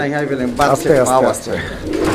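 A pair of high-flyer giribaz pigeons cooing close by, soft rolling throaty calls in a steady run, with a faint voice in the background.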